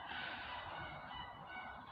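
Continuous honking, squawking calls from chickens outdoors, loud and close and filling the whole stretch with no talk.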